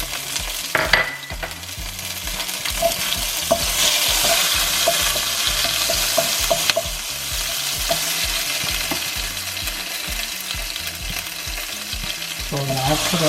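Chili, garlic and ginger fry in a hot wok with a constant bright sizzle and repeated scraping stir strokes of a utensil, loud and close, with no talking.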